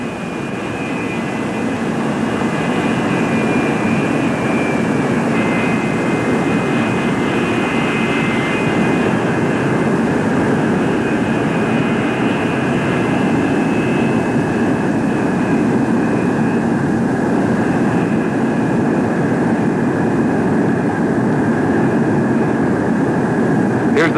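A Convair F-102 jet lands with its nose held high, giving a loud, steady jet-engine roar that runs unbroken for the whole stretch.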